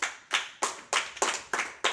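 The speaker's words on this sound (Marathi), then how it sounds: "टाळ्या वाजवा अनेशसाठी" Schoolchildren in a classroom clap for a classmate, about seven sharp, evenly spaced claps in a quick rhythm, close and clear with no talking.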